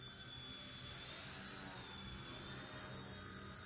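An Eachine E119 RC helicopter flies with a steady, high, whining motor and rotor drone that holds level, close and unbroken throughout.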